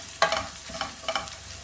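Onions sizzle and brown in a pan with dried red chillies for papaya thoran, a soft steady frying hiss broken by a few light spoon scrapes.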